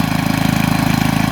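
A 1976 engine idles steadily at close range, a low, even rumble with a fast regular pulse and no talk over it.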